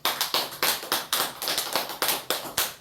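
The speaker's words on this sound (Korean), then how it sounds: "박수 한번." A church congregation claps in rhythmic, evenly spaced bursts, sharp and fairly close, with no talking over it.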